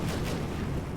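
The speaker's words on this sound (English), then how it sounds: "Some fireworks. Not very much fireworks." Dense, continuous booming bursts from fireworks exploding in a shooter video game, loud and filling the whole moment with rumbling low-end blasts and no voices.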